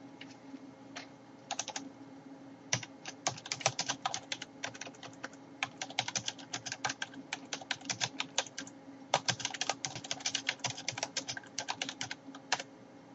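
Keys clatter on a computer keyboard in quick irregular bursts with short pauses as text is entered into a file. The typing is close and moderately quiet, with no voices.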